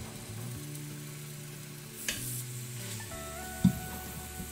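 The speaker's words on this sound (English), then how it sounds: "You want to hear that sizzle." A soft, steady sizzle of meat frying in a pan, with a faint low hum underneath and a brief clink partway through.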